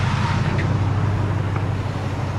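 Engine of a 2004 Ram pickup with a Hemi V8 idling steadily beside a newly replaced power steering pump, a constant low drone and hum with no talking.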